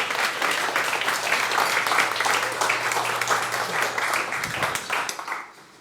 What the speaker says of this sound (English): please give a big round of applause and we'll bring Jennifer to the stage